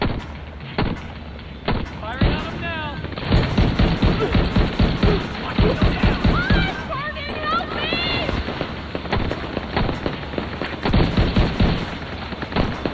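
Rapid gunfire in the video game The Division 2, with bursts and single shots crackling steadily over a busy battle mix, along with occasional voices.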